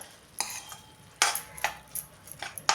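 Green chillies and jaggery are stirred in a pan, with close, sharp scrapes and clinks of a utensil against metal coming in irregular bursts over a faint background hiss.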